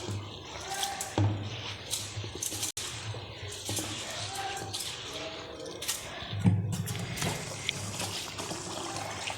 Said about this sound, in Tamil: இப்போ நல்லா அந்த அரிசியை வந்து கழுவிக்க வேண்டியது தான்